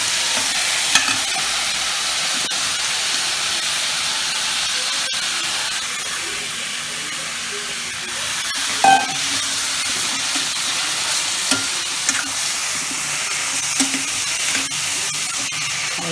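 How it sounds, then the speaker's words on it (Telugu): Onions frying in hot oil in a pan after eggs have been removed, a steady sizzling hiss with faint stirring scrapes and a few small clicks, close and continuous with no talking. "ఎగ్స్ తీసిన తర్వాత ఆయిల్లో ఆనియన్స్ వేసేసుకోవాలండి"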